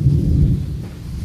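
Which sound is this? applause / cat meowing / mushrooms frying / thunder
thunder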